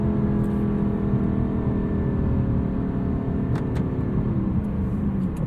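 A 2018 Lexus LC 500 engine holds steady revs while driving, a continuous loud drone with road and cabin hum and no shift breaks.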